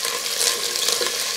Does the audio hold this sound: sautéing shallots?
yes